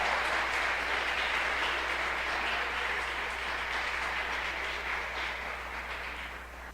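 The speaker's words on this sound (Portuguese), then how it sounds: "Você pode aplaudir o Senhor?" Congregation at a church inner-healing seminar applauding, a moderate wash of clapping over a low steady hum, gradually fading across the stretch.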